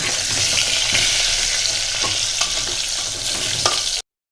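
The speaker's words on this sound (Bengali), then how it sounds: "দিয়ে আমি একটু লাল লাল করে একটু ভেজে নেব।" Potatoes with salt and turmeric fry in hot oil for a mutton curry, giving a loud, steady, dense sizzle with faint stirring scrapes throughout, then cutting off abruptly near the end.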